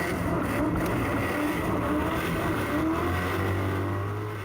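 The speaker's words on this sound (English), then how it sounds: "jump on board with Michael Rosenblatt in the Newlon Oils R32 Skyline" The Newlon Oils R32 Skyline drift car, heard onboard at an Australian Drifting GP round at The Dome: a loud, continuous, high-revving engine with shifting pitch and a rising tone near the end.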